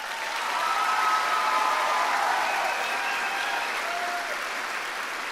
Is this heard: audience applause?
yes